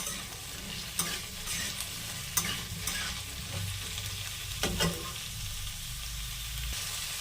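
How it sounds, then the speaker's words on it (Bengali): Ridge gourd tossed in with lightly fried potatoes sizzles in a pan, a constant frying hiss with low rumble and intermittent clinks and scrapes of stirring, near and steady, no voices. "আলুগুলো হালকা করে ভেজে নিয়েছি এবার এর মধ্যে দিয়ে দেবো ঝিঙেগুলো"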